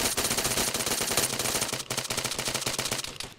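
Gunfire in the Arma 3 video game: loud, rapid automatic bursts hammer out in a fast, regular rhythm, break off for a moment, then start again with sharper repeated shots.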